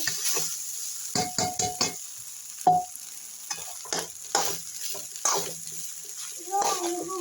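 Food frying in a pan for a school tiffin lunch, with intermittent sizzling bursts and stirring sounds, some clinks and a faint voice in the background.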